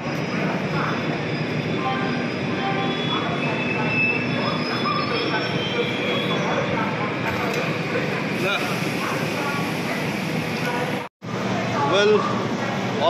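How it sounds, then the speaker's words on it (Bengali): Howrah Ahmedabad SF Express pulling out of Vadodara station, a steady rumble of coaches with high wheel squeal and rattling close by, a brief dropout near the end, voices faintly underneath. "ভাদোদরা স্টেশন ছেড়ে দিল"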